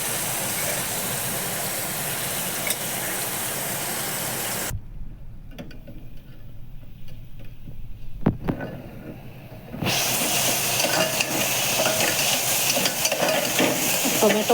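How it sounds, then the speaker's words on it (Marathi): Tomatoes roast in a pan until soft for a home-style Sunday thali, giving a steady loud sizzle with occasional stirring scrapes; the sizzle drops away for about five seconds midway, then returns at full strength. "टोमॅटो टाकले. आता चांगला मऊ होईपर्यंत भाजून घ्यायचा."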